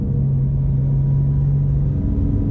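Porsche 911 GT2 RS with a 700 hp engine pulling hard, heard from inside as a dense, steady low-mid roar with a sustained droning tone that fades near the end, loud and constant with no talking.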